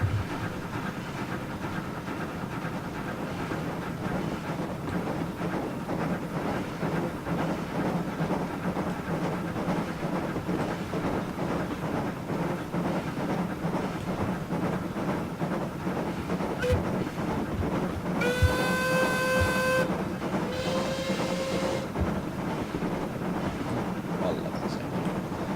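A train runs steadily with continuous rumbling and rhythmic clickety-clack throughout, loud and close, and a brief two-tone horn sounds near the end.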